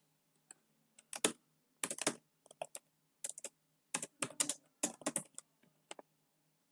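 Keystrokes on a computer keyboard while a name is entered into Microsoft Outlook 2013 during Gmail account setup, sharp close clicks in irregular bursts separated by short pauses, with no talking.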